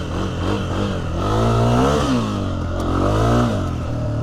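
A 2026 Honda CRF300F dirt bike rides over desert terrain. Its engine drones loud and close, rising and falling as the rider revs through bumps and small jumps, with wind noise over the top.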